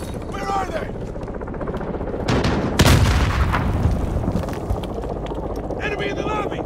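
A grenade goes off in Call of Duty: Modern Warfare amid a tense realism firefight, a loud booming burst rising out of constant roaring battle noise while soldiers shout over the din.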